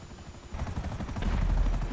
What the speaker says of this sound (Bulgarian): Не знам, този хеликоптер нещо поудява.